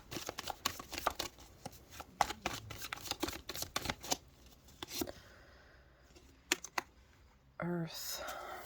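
A deck of oracle cards is shuffled in a rapid run of crisp, close riffles and taps. A quiet voice speaks near the end.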